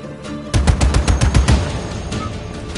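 Rapid burst of automatic gunfire in the Just Cause 3 video game, loud and close, a dozen or so sharp shots in quick rhythm that then trail off into a lingering rumble.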